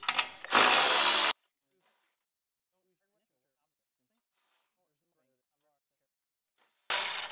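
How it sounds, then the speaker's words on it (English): Electric ratchet with an 8mm socket whirring loudly on a snow thrower, one short burst at the start and another at the end, separated by near silence. "All you need is a 8mm socket. I'm going to use my electric ratchet, which I always use."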